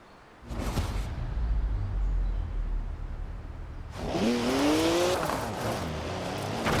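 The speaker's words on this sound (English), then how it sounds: "Oh, a BMW 1M. Great car." A BMW 1M drives in Forza Horizon 4, its engine roaring close and loud, with a rising rev sweep midway, steady running, and no voices.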